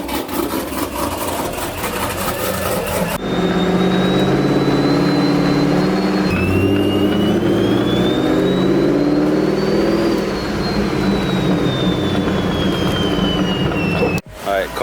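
A Pontiac G8 engine with a stage 3 cam and Solo exhaust revs loudly in a garage, a deep rumbling idle that swells into sustained revs with a rising and falling whine. A voice speaks briefly early on.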